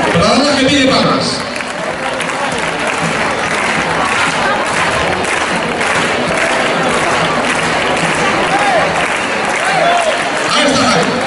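Crowd applause fills a bullring at a festival in Ricla, Zaragoza, steady clapping throughout with a commentator talking over it.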